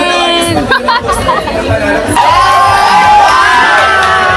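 Packed crowd at a Bicol drag show cheering, screaming and shouting, a loud dense roar with high whoops rising over constant chatter.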